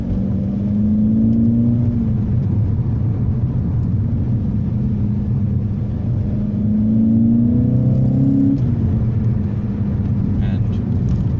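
A Seat Ibiza Cupra engine drones from inside the cabin while driven in manual mode on a country road, with steady rumbling and a couple of rising rev pulls through gear changes under continuous talking.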